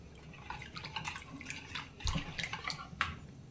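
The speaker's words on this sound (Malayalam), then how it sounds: "വെള്ളം ഒഴിച്ച് മാവ് ലൂസാക്കി കൊടുക്കണം" Water is poured into rava dosa batter to thin it, a soft trickle and a few small splashes close by in a quiet kitchen.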